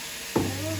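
Sliced bell pepper lands in a hot pan with a sudden burst of sizzle that settles into a steady frying hiss, close and fairly loud, with no voices.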